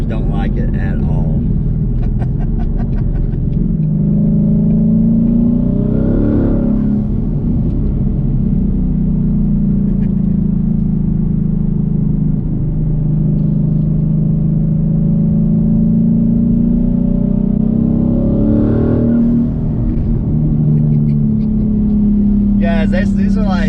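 A 2020 twin-turbo Ford Mustang engine drones loudly and steadily through repeated half-throttle pulls, its rumbling tone rising and falling inside the car with road noise.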